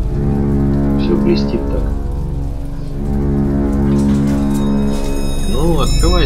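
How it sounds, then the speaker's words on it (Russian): Steady rain falls in the video game Bioshock Infinite, a loud continuous patter under music, while someone talks over it. "Дождик такой, прям будто маслом все намазано."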